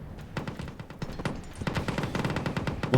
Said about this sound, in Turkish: Mobil artillerilerim sıkıyor.